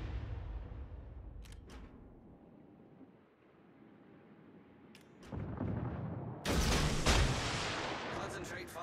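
Naval artillery fire in World of Warships: Legends, with distant booms over wind and sea ambience, then heavy loud blasts building near the end as voices speak.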